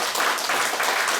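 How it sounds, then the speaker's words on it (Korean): An audience bursts into steady, continuous applause for a lecturer with a doctorate in literature, a poet and essayist, at a talk on Chinese idioms held by a cultural heritage society in Daegu. The clapping is dense and even throughout. "큰 박수 받습니다"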